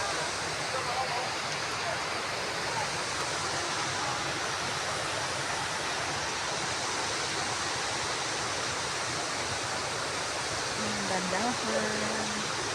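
River water at a swimming spot in Utisan rushes in a steady, broad wash that never lets up, with faint voices briefly audible near the end.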